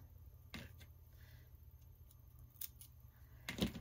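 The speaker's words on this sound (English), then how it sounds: "Let's kind of trim this one back just a tad. Cut off any buds." Scissors trim flower stems and snip off buds, giving a few faint, sharp clicks and snips spread out over a quiet background. A louder close cut lands near the end, with no speech.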